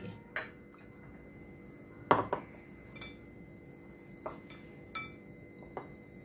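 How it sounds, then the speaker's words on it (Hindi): Mixer grinder jar being rinsed with a little water in a home kitchen while making tomato parathas, giving scattered clinks and knocks of the metal jar against dishes, quiet and close, several sharp taps over a soft background. "ये मिक्सी का जार मैं धो करके दे रही हूँ, थोड़ा सा लगेगा पानी"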